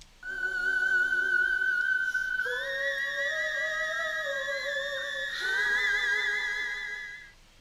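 A sustained high whistle-register vocal note in the style of Mariah Carey, held for several seconds and stepping upward twice in pitch, clear and alone.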